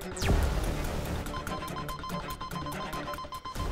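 A telephone rings with a rapid, repeating bell pattern, loud and close, after a brief sweeping whoosh at the start.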